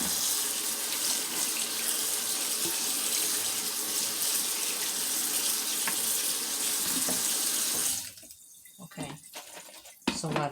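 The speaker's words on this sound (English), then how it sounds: "And just take some cold water, and you rinse them off." Cold tap water runs over kidney beans in a kitchen sink, a loud steady gushing rush that shuts off after about eight seconds, followed by a few small clatters.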